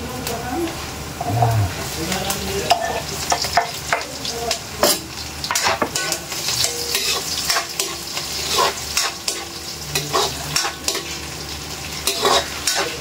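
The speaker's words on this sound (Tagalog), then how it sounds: "fry na po ng konti ang ating luya. Okay. Sunod na natin yung ating bawang" Ginger, then garlic, frying in a pan for catfish nilaga, with a steady close sizzle broken by repeated scraping and clacking stirring strokes and a faint voice now and then.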